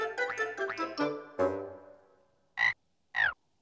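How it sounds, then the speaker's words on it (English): Cartoon frog croaks from a children's animated show: a run of bright, tonal croaks fading out, then two short separate croaks after a pause, close and clear with no talking. "Oh, hello, little frog."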